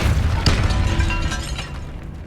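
A Depulso spell goes off in Hogwarts Legacy inside a tomb near an altar: one loud, sharp magical blast followed by a rumbling, booming tail that slowly fades.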